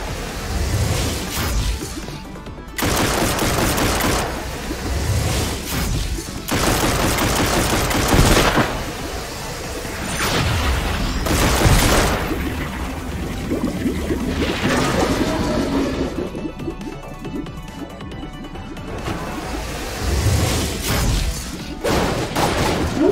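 Gunfire fills a busy video game scene in loud bursts of shots, mixed with crashing and whooshing effects that run almost without pause.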